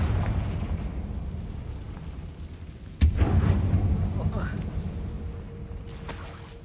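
Confringo fire spell blasts in the Hogwarts Legacy video game: one sharp, loud explosive burst midway, followed by rumbling fiery decay, against a low background with faint speech.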